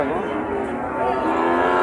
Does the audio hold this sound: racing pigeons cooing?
no